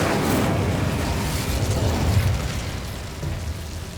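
An Incendio fire spell is cast in Hogwarts Legacy, producing a loud, continuous fiery roar and whoosh that fills the whole stretch and fades slightly toward the end.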